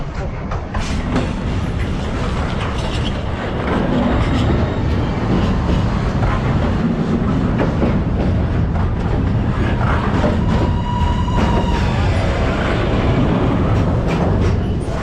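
A freight train rolling past close by during a shunting move in Europe, a loud continuous rumble with rattling cars, metallic clatter and faint squeals that swell louder after a few seconds.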